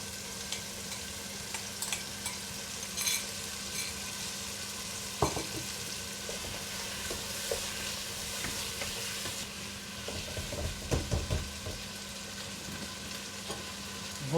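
Pre-boiled pig ear and trotter pieces dropped into a hot pot for feijoada, giving a steady soft sizzle and frying crackle with a few louder stirring clunks and pops.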